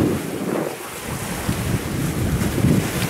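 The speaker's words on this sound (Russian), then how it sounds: "волны плещутся, ветер поднялся после обеда" Sea waves splash and wash ashore under gusting afternoon wind on a Hurghada beach on the Egyptian Red Sea coast, loud and close, with wind buffeting the microphone in uneven surges and no voices.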